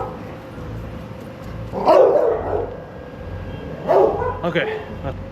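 Dogs bark out in a street at night, two short bursts spaced a couple of seconds apart over a low steady background hum, fairly distant.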